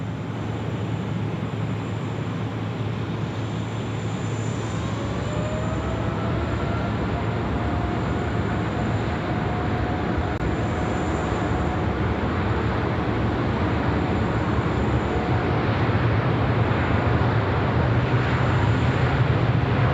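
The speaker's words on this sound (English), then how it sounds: "Qantas 75, runway 16 right, clear for takeoff." A Qantas airliner takes off from runway 16 right at Sydney with a sustained, broad roar that builds gradually over twenty seconds, far off, without speech.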